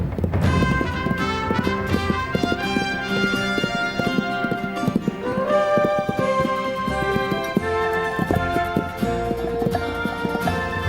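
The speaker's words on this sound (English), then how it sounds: "Spurred by heat and hunger, wild horses converge on the cool green heights" Wild horses run across green mountain heights in southern Montana, their hooves clip-clopping in quick repeated beats beneath a loud, swelling orchestral score.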